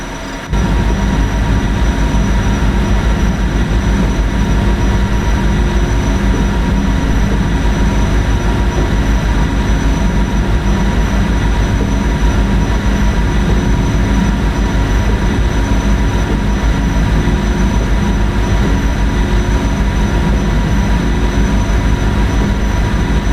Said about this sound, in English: this train is too fast for the corridor. It's also not real